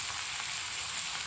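Ivy gourd (kovakkai) sautés in a pan with a steady, even hiss of frying, faint and unbroken over a moment, with no voices.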